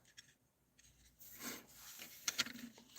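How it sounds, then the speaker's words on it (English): Quiet, intermittent rasping strokes of sandpaper rubbing against wood, a few soft passes close by with brief pauses between them. "we need to be quiet to better hear the sanding"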